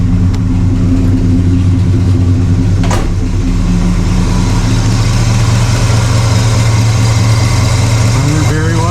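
A Pontiac LeMans engine idles loud and close after a fuel pressure regulator install, holding a steady, even rumble with a low hum throughout.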